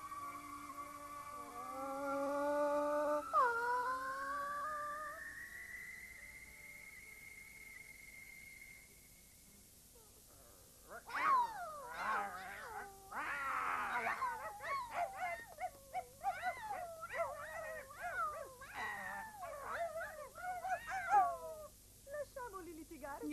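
In the Yattaman cartoon, a dog and a cat fight: after a brief rising whine, a rapid, close tangle of yowls, whimpers and snarling barks follows in choppy bursts, seemingly voiced by performers.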